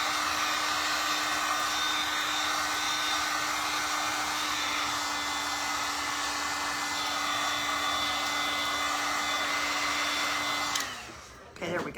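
Hair dryer or heat gun blowing hot air on fabric to smooth out wrinkles, a close, steady whirring hum with a constant tone that runs evenly, then cuts off abruptly near the end.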